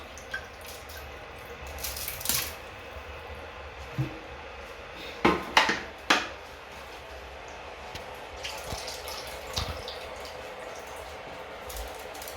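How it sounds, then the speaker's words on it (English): Dirty rinse water drains from washed rice in a saucepan, heard as scattered drips and small splashes with a few louder wet spills near the middle, fairly quiet against a low background hum. "you drain it out. Leave the dirty water and the impurities in there."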